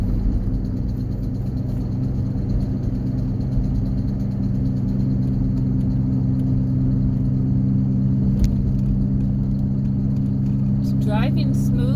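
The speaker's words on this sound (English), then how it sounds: "Driving smooth up this hill, shifting through the gears just fine." A 2008 GMC Envoy's engine hums and rumbles steadily from inside the cabin as it climbs a hill and shifts through its gears, with someone talking over the drone and brief clicks near the end.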